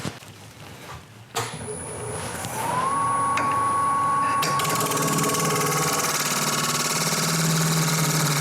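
A wood lathe spins up and turns a mulberry bowl, its motor rising to a steady whine that then runs on continuously, close and fairly loud, with no one talking.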